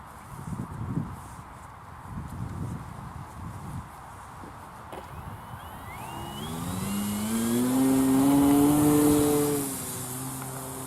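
A radio-controlled model aircraft's engine revs up during takeoff at a model flying field, rising from quiet into a loud, sustained buzzing whine that swells, peaks, then eases slightly, with faint talk and rustling before it starts.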